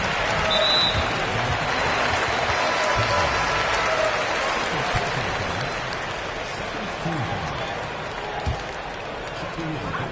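A home crowd roars and applauds through the closing seconds of a basketball video game, an Anadolu Efes versus Bahçeşehir Koleji EuroLeague match. The sound is a steady, dense wall of cheering, with commentary faintly audible beneath it.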